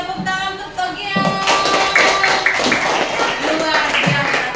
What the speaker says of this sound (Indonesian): Tepuk tangan untuk Togian.